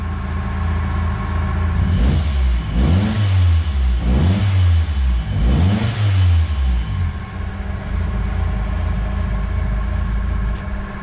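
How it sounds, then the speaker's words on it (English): A 1992 Nissan Sentra engine revs up and down in three or four strong swells over a steady idle, loud and close throughout with no talking. "Little bit more rev."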